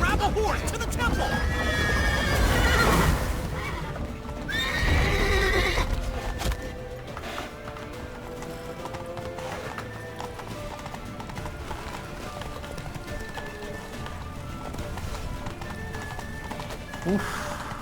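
A horse whinnies loudly in The Witcher 3, then hooves pound in a fast, steady gallop that keeps up for a long stretch, close by.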